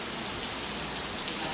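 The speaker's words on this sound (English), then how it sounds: "and it started to rain" Rain falls steadily on a Miami beach day, a soft, even hiss of drops on surfaces with no voices over it.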